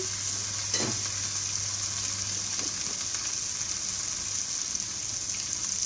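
Cabbage and mixed vegetables for egg and chicken fried rice frying in oil and being stirred, a continuous steady sizzle with occasional scrapes of the spoon against the pan and no speech.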